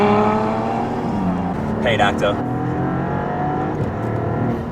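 A Maserati MC20 with its Italian engine accelerates past, a strong rising engine drone with a brief tire squeal in the middle, heard from inside a car while someone speaks briefly.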